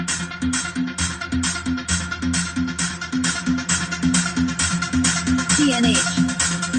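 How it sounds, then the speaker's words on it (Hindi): Dance remix music plays at full volume through the upgraded sound system of a Hyundai Creta E model, with a steady repeating beat and bass throughout. "Just experience the music in the car जो हमको मिल रहा है।"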